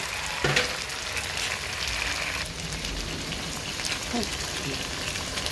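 Dense crackling sizzle of chicken frying in a pan, with a few brief clinks and thumps, and a voice faintly audible under the noise.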